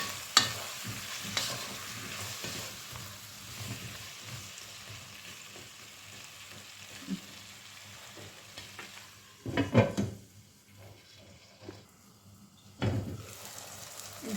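Food sizzles and crackles in a pan with intermittent stirring and scraping, a few louder clatters near the end, no voices.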